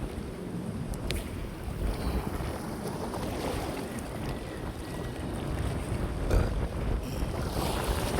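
Steady, gusty wind roars across the microphone without pause, with rushing water and a fishing boat's hum underneath.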